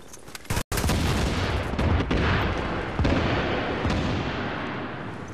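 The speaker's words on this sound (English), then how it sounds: "Explosive bullets in here." Explosive rounds in The Division, a dense burst of loud, close gunfire with a sharp break early on, then sustained blasts and booming reverberation fading slowly.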